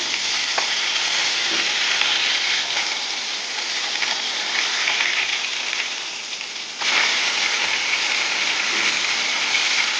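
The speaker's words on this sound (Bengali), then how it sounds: "তো এখানে তেল গরম হয়ে গেছে দিয়ে দিব আমি উল্টিয়ে দেবো" Fish crackles and sizzles in hot oil at close range, a loud, dense, continuous frying hiss with a brief dip and surge as the pieces are turned; no voices.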